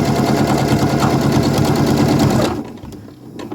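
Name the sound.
sewing machine stitching jersey fabric with a twin needle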